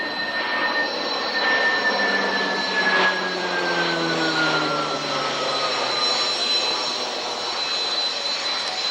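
A single-engine turboprop aircraft flies past at the 1994 Woodford Airshow, its steady loud drone and high whine sliding gradually lower in pitch as it passes, with no talking.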